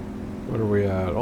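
A light aircraft engine drones steadily while climbing in flight, a continuous close harmonic hum that grows slightly louder and shifts upward in pitch partway through.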